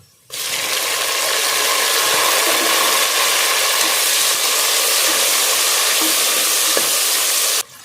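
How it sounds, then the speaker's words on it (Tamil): Chopped tomatoes hit golden-fried onions in a pan while cooking a country-chicken biryani for the pressure cooker, producing a loud, steady, close sizzle that holds evenly for several seconds with no talking. "வெங்காயம் நல்லா பொன்னிறமாக பொறிஞ்சு வந்துருச்சு இப்போ நம்ம தக்காளி சேர்க்கலாம்"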